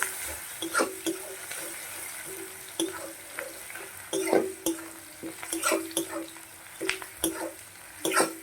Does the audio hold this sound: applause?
no